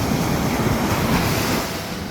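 Ocean waves wash onto the seashore at Ocean Park, Puerto Rico. The surf keeps up a loud, continuous rush, with wind buffeting the microphone.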